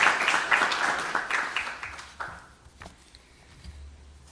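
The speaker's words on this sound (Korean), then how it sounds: "자, 박수로 환영합시다." Meeting attendees applaud to welcome a guest, a burst of close clapping from a modest group that fades out after about two seconds, leaving quiet room tone.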